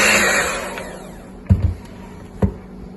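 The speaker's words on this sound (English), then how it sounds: "Now we're going to mix this for a few seconds as well." An electric mixer beating chocolate cake batter after milk is added, a whirring hum that fades out, followed by two sharp knocks.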